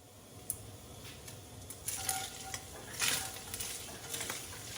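Ground meat browning in a frying pan, a soft steady sizzle with occasional scraping stirs, faint and close.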